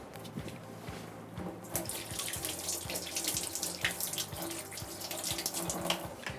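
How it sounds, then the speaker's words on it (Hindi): A kitchen tap runs steadily into a sink while hands are washed, a continuous close splashing stream with small irregular splatters as the hands move under the water, and no talking. "आई थिंक मैं ज़रा हाथ धो लूँ"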